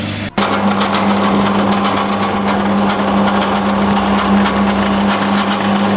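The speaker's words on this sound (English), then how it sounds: "Now cutting out the first part of the engine brace." Metal engine brace being cut for mounting a 13B rotary engine into an Altezza/IS300, a steady loud whine of a cutting tool running continuously after a brief click at the start.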